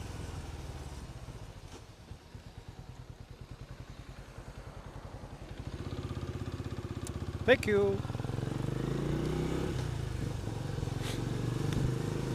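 Benelli Imperiale 400 motorcycle with a one-piece stainless steel exhaust idles steadily up close, rising slightly midway with a brief sharp click, while someone speaks briefly over it.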